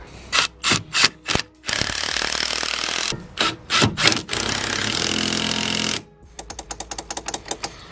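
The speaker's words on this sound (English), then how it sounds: "We'll get them bolted down and we'll see how sturdy it is once they're on." A ratchet or power tool bolts down strut brace top mounts on a Vauxhall Astra, with loud bursts of rapid clicking and sustained whirring, close up and repeated.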